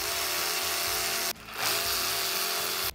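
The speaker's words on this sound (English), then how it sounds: "By running the bolt through the tap," A steady mechanical whir as a 6x1.0 bolt is run through a thread-cutting tap to clean its threads on a Specialized Levo e-bike, with one brief pause before the sound resumes.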